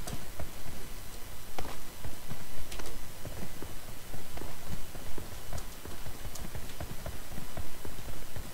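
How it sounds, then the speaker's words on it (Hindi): Horse hooves clip-clop in PUBG Mobile's Payload mode, a dense, continuous run of rapid hoof beats over loud game noise for the whole stretch. "घोड़ा पड़ी है यहाँ पे,"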